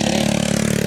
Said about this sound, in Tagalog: Motor na po.